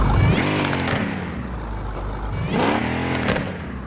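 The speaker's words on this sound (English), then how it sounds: "I'm gonna give it some revs right now." A semi-truck fitted with a Hellcat engine revs in the video game Car Parking Multiplayer 2, a loud continuous engine note with two distinct rev swells rising and falling over a steady rumble.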